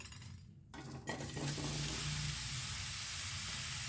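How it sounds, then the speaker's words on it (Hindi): Bottle gourd fries in oil on a high flame, bursting into a loud, continuous hiss after a brief quiet start, with a few utensil clinks while it is stirred. "हमको हाई फ्लेम पर ही अपनी सब्ज़ी को फ्राई करते जाना है चलाते हुए"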